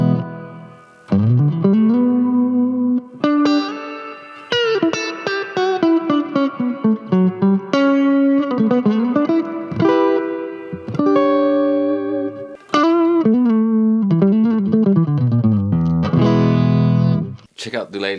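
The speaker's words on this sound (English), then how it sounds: "So ditch the reverb, ditch the chorus and add reverb." Electric guitar notes and chords ring out through a Boss Dual Cube amp with heavy reverb, sustained and washy tails, played alone at a strong level.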